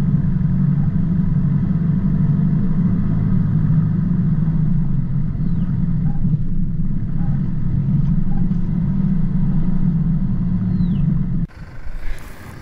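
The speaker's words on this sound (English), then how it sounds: "this is that same section of road with Mark driving in his Colorado" A Holden Colorado four-wheel drive on a dirt track in Chiltern-Mt Pilot National Park, a loud, steady low engine rumble with road noise that drops away abruptly near the end, no talk.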